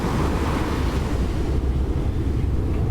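Ocean surf rolls and crashes onto a beach beside a large jutting rock, a loud continuous wash of breaking waves with steady wind rumble across the microphone, no voices.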